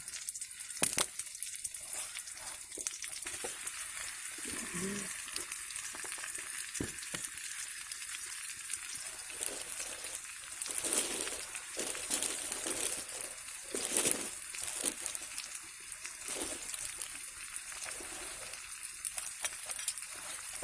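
Mince frying in a pan at an outdoor camp, with a steady sizzle and intermittent scraping as it is stirred, close and continuous with no talk.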